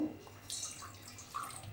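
Water pours and splashes into a bowl in a short, quiet burst, with soft trickling and a small gurgle near the end.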